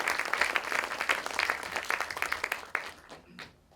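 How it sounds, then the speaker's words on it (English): Event audience applauding after a panel discussion at a film center, dense clapping at steady volume for about three seconds before thinning and fading out. "can we get a huge round of applause for Robinson Film Center and INAR for putting this event together"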